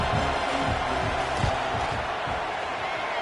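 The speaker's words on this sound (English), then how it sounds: "This crowd trying to do its part to get inside the kicker's head." A college football stadium crowd roars steadily as the field goal unit lines up on fourth down, a dense, continuous wall of cheering and shouting that stays loud throughout.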